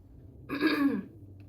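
A single close, rough throat clearing lasting about half a second, in an otherwise quiet room.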